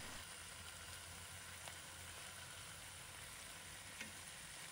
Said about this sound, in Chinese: 把之前煎的金黄的红鳝鱼轻轻放回锅里